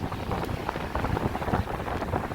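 Strong wind gusts roar and buffet the microphone on a downtown Chicago street during a snowstorm, a continuous, rumbling, broadband rush with no talking.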